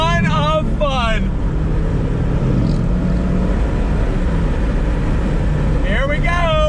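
2020 Mazda MX-5 RF engine pulling hard on throttle, with rising rev sweeps at the start, a steady loud drone through the middle and another climbing rev run at the end.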